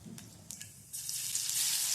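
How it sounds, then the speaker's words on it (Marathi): Mustard seeds and cumin crackle in hot oil in a kadhai, a few sharp pops early on giving way to a steady, brighter sizzle that fills the second half, close and fairly quiet with no talk. "तेल घेतलेलं आहे कढईमध्ये त्याच्यामध्ये मोहरी टाकायची आहे जिरे टाकलेले आहे"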